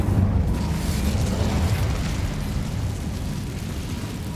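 An Incendio fire spell cast in Hogwarts Legacy, a dense, roaring burst of flame that stays loud and full for several seconds with a steady rumbling body and no voices.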